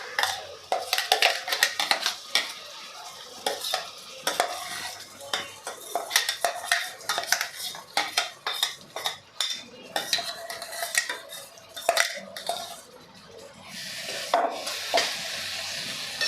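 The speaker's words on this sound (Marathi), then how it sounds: "आता वाटण सुद्धा आपल्याला पूर्णपणे परतून घ्यायचं आहे। तेल सुटेपर्यंत परतून घ्यायचं आहे।" Ground masala paste sautéing in oil for sukka chicken, with a busy run of loud metal spoon scrapes and clanks against the pan over a continuous sizzle.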